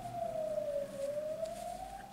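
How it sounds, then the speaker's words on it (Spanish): A passing ambulance siren wails in one steady, gently bending tone, fairly loud and alone against a faint background hum. "Que nos pasa una ambulancia por aquí"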